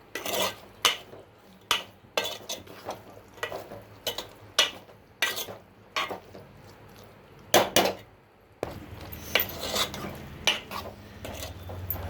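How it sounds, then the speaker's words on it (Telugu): Spoon scraping and clinking against a pot while egg curry with salt is stirred, a series of sharp close metallic clinks in irregular rhythm over a low simmering hiss, with no talk. "ఇప్పుడే సరిపడినంత ఉప్పు వేసుకొని బాగా కలుపుకోండి"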